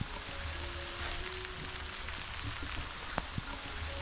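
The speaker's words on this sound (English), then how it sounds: "It's raining again." Steady rain on a remote island, a continuous close hiss of falling water with a few scattered louder drops and no voices.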